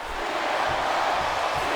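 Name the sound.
crowd cheering in a WWE wrestling video game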